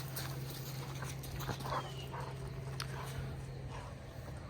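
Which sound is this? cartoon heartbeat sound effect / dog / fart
dog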